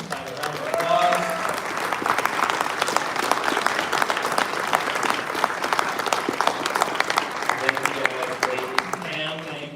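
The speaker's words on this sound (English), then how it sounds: "Let's have a round of applause" A crowd at a groundbreaking ceremony for a recreation complex claps enthusiastically for nearly ten seconds, a steady, dense patter of many hands that swells slightly and tapers near the end.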